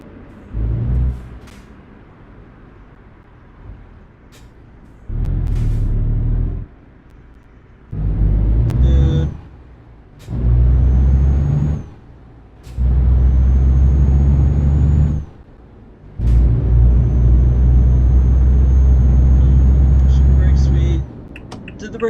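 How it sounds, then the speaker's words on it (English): Truck air brakes on a heavy rig in the Euro Truck Simulator driving game, a string of loud, sustained hissing bursts releasing one after another over a steady engine rumble, with someone talking in between. "The brakes always air out like that every time."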